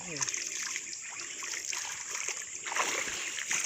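Splashing water in a reservoir pond, a broad steady wash with brief splashes across a few seconds, under light background voices.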